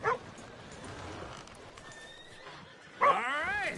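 A horse in a video game whinnies near the stables, with a short neigh at the start and a longer, wavering whinny about three seconds later, heard over quiet ambient game sound.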